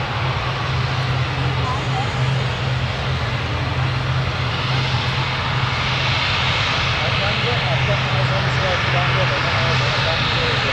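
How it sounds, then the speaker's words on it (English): Airliner landing at Newcastle Airport, a steady broad engine roar with a low hum running throughout, held at a constant loudness. People talk over it. "Very, very nice landing."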